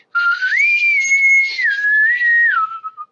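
A person whistles one sustained, gliding tone that swoops up, holds, and slides back down, imitating the eerie wavering sound of a theremin.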